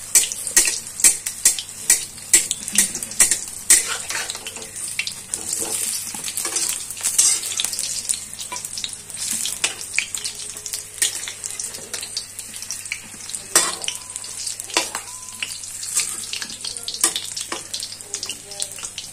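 Besan-stuffed green chili pakoras fry in hot oil, a dense, steady crackling sizzle with bright popping bursts throughout, close and loud, under a low constant hum.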